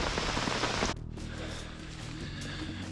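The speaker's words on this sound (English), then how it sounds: "especially when the rain pops up on you" Rain falls steadily at the Dead Pine campsite in F.D.R. State Park as a continuous close hiss. It is heavier for the first second, then settles into a softer, even patter.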